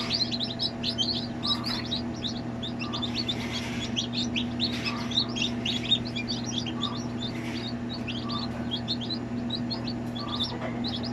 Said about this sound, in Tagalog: kanina may mga sisiw na tayo no sa incubator. May napipisa na